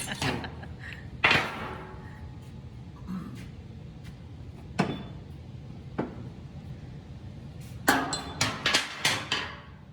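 Sharp metallic hammer blows on a dented steel fender backed by a dolly ring out sporadically, then a quick burst of several strikes near the end, close and loud over a quiet background.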